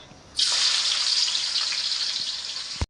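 Onions dropped into hot oil in a pan where plantain was just fried, bursting into a loud, steady hiss that sizzles on for a couple of seconds before cutting off abruptly.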